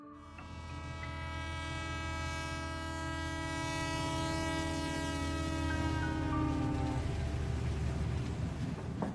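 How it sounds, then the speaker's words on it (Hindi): A train runs steadily along the rails with a continuous loud rumble and a sustained horn-like harmonic tone, heading toward Kalpa station; no voices. "ट्रेन तेजी से आगे बढ़ते हुए कल्पा स्टेशन की ओर जा रही थी।"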